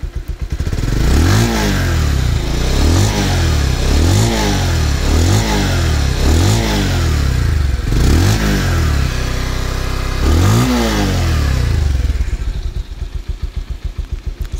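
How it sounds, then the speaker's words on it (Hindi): A Bajaj Pulsar 150cc motorcycle engine revs repeatedly, about seven sharp throttle bursts rising and falling over a steady idle, loud and close. "इंजन का आवाज़ आप सुन सकते हैं। मैं आपको रेस करके दिखाता हूँ साउंड।"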